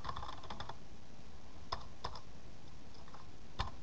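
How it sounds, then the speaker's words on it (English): Keys on a computer keyboard tapped in a few sparse, separated clicks while a Django install command is entered, fairly close and quiet with no talk over them. "for install you have to type pip"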